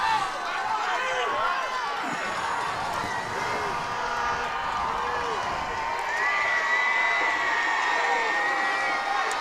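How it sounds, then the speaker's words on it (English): The home crowd at an Adamsville high school football game against Summertown roars and cheers, with shouts and whoops rising and falling across a big outdoor field while an announcer talks over it. "Adamsville crowd louder than I've heard them all night"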